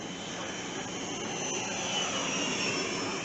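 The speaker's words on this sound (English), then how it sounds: "It's amazing how quiet that jet is." A Flex Innovations F-100D 90mm electric ducted fan RC jet flies past with a steady, airy whooshing roar that stays fairly even throughout, with no talking.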